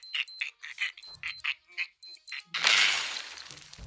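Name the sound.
wristwatch alarm beeping like a bomb timer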